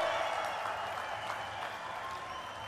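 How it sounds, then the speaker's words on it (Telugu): A crowd at a public rally in Visakhapatnam claps in a sustained, dense burst of applause that carries evenly across the whole stretch, heard from within the gathering. "ఆంధ్ర రాష్ట్రం మొత్తం వినపడేట్టుగా గట్టిగా చప్పట్లు కొట్టి నరేంద్ర మోడీ గారిని"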